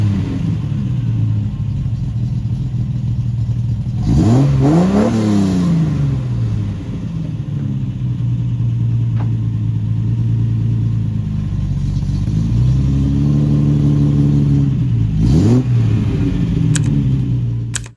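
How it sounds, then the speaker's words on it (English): A 1974 Triumph TR6 convertible engine idles with a steady, close rumble, then revs sharply twice in quick rising-and-falling bursts, settling back to idle between them with no voices. "1974 Triumph TR6"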